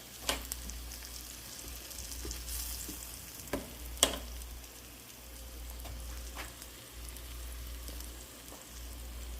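Salmon fries in butter in a pan with a soft, steady sizzle, fairly faint, with a few sharp pops and clicks scattered through.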